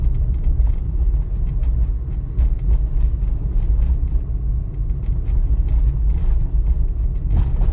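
Car driving along a city road during a driving test, slowing to about 20–25 km/h; a steady, close low engine and road rumble runs without a break and with no talk.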